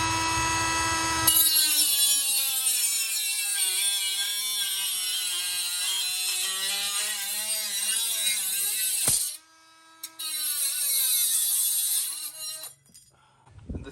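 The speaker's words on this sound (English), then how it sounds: "I got this Milwaukee cutoff tool." A compact Milwaukee cordless cutoff tool spins up with a high whine and runs steadily for several seconds, briefly stops, then revs again before winding down; loud and close with no talk.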